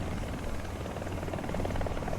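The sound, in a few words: helicopter rotor in War Thunder video game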